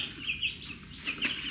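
Little ducklings give faint, high peeping calls in short pairs, quiet against a soft background hiss.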